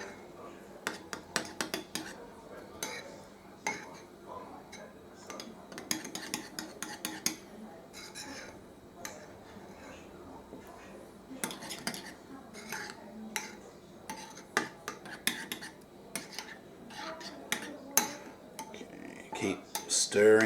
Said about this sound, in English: Keep stirring until all the ingredients are blended in with the sauce